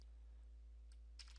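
A few faint clicks of keys being typed on a computer keyboard while entering a command on an HP tablet, sparse and quiet over a steady low hum.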